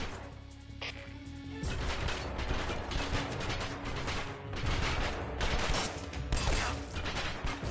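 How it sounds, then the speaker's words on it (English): Gunfire in Metal Gear Solid Delta Snake Eater, a sustained barrage of loud overlapping shots with mechanical clatter that breaks out after a quieter opening second and keeps going. "What are they shooting at?"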